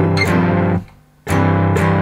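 A riff on a cigar box guitar sounds as two loud, buzzy, slightly distorted strummed phrases separated by a short gap, played alone with no talk.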